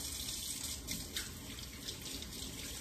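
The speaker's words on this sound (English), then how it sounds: "I'm gonna wash my hands" A kitchen tap runs steadily while hands are washed beneath it, a soft continuous splashing hiss with small shifts as the hands move through the stream, fairly quiet and with no talking.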